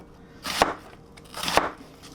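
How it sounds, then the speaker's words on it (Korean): Two crisp knife chops against a board while julienning carrots, about a second apart, close up and otherwise quiet. "해자 이제 당근을 채썰 거예요"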